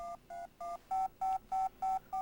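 An Apple Newton dials a phone number: a series of about eight clean electronic touch-tone beeps in an even rhythm, each short with brief gaps, clear and close with no talking.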